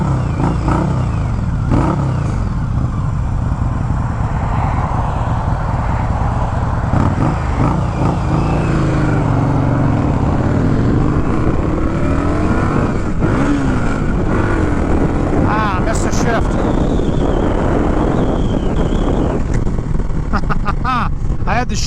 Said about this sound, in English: The exhaust note on this bike is super awesome.